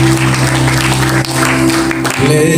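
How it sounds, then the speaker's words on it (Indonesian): Congregation applauding at a praise and worship prayer service, dense steady clapping over sustained organ or keyboard chords and some voices. "Boleh berikan tepuk tangan yang meriah bagi Tuhan."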